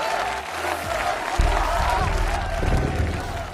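Audience applause and cheering for a band on stage at a rock concert, a broad, steady wash of clapping and crowd noise throughout, with a brief louder surge partway through.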